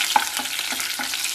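Mustard seeds, urad dal, curry leaves and dried red chillies crackle in hot coconut oil over a high flame, a close, loud sizzle with quick popping spatters and stirring scrapes.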